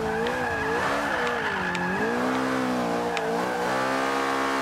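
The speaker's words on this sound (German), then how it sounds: "Also ich beschleunige jede Kurve voll raus, ne?" An Ariel Atom V8 in the racing game Forza Motorsport 5 howls hard out of a corner, its engine note rising and falling with gear changes while the tyres squeal briefly, loud and steady with no talk.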